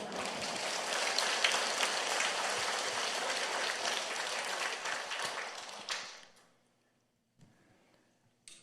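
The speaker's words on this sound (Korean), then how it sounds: "박수가 시원찮아요." A church congregation claps for about six seconds, a dense, loud burst of applause that fades out abruptly, followed by near silence with faint room noise.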